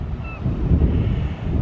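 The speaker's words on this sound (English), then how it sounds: "Windy and chilly." Wind blows at Portland Head Light on Cape Elizabeth, Maine, beside the Atlantic Ocean, a loud, steady, low roar buffeting the microphone.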